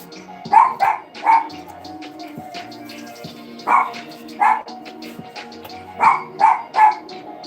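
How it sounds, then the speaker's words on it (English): A dog barks in short clusters of two or three, pausing between bursts, fairly close with a low room hum underneath. "What you barking at?"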